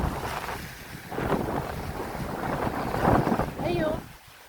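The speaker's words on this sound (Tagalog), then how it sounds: "Ano ang dagat, napakaalon, sarap sa makaligo." Rough, choppy sea in Bicol province roars close by as a steady broadband wash, with wind buffeting the microphone and louder surges from the waves rising and falling throughout, and a brief wavering tone just before the end.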